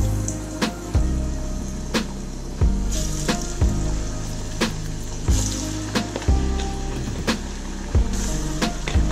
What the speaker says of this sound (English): put it in the pan and get it started frying up